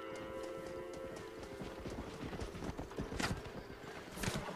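A horse gallops in Red Dead Redemption, its hooves drumming in a quick, close rhythm with a couple of sharper thuds near the end, alone without talk.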